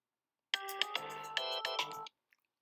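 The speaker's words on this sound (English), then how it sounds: "Pardon me, that was my phone." A mobile phone ringtone plays a bright melodic tune for about a second and a half, fairly quiet and alone, then stops abruptly.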